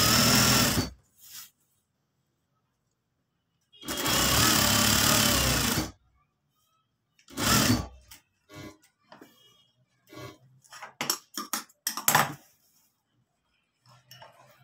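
A sewing machine stitching the side seam of a simple shirt, heard as loud mechanical whirring bursts of one to two seconds separated by silences, then shorter rapid stuttering runs and clicks.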